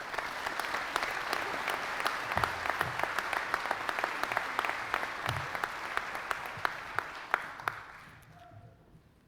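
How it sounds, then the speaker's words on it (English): Audience at an annual meeting and member celebration applauds steadily and fairly loudly for about eight seconds with sharp individual claps standing out, then the clapping thins and fades out at the end. "give yourselves another big round of applause"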